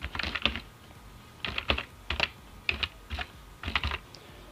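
A computer keyboard rattles with close, quick keystrokes as the systeminfo command is entered at a command prompt, coming in several uneven clusters of clicks without speech.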